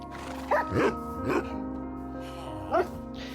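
Game dogs give a few short yips and barks amid a steady hum of background music, with brief whimpery tones in between.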